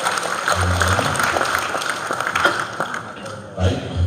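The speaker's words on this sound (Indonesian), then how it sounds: "Kita beri aplaus untuk Bapak Profesor." An audience applauds a professor at a government staff training session in Indonesia: steady, dense clapping from a seated crowd that fills the room for several seconds, with a voice coming in near the end.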